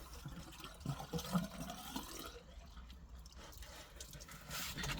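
Antifreeze poured by hand into an engine hose leading to the outdrive while winterizing a MerCruiser boat, a soft trickling, gurgling liquid flow, fairly quiet and steady throughout.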